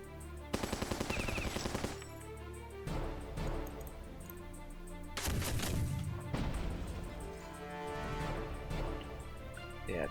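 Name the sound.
battleship cannon fire in the video game Battle Nations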